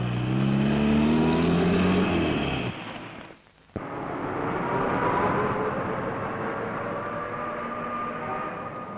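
Minivan driving through busy Nigerian traffic among buses, a loud, continuous engine and road roar that cuts out abruptly for a moment, then resumes with a sharp onset and steady traffic noise.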